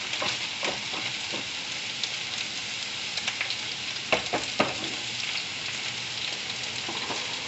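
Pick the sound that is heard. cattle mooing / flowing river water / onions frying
onions frying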